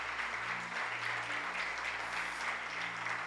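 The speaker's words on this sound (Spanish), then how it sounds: "¿Alguien le da un aplauso al Rey de Reyes?" Congregation applauding during a church service, steady dense clapping over a low, sustained musical hum, continuous for the whole stretch.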